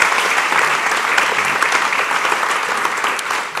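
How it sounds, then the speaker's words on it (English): Steady audience applause fills a university address in honor of campus dining and catering staff, dense clapping holding even and loud throughout with no speech. "let's give them a round of applause."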